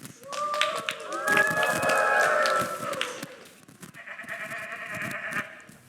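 A sheep in a Christmas school play bleats loudly in a wavering call, probably a human voice imitating the animal, followed by a steadier second bleat amid stage noise.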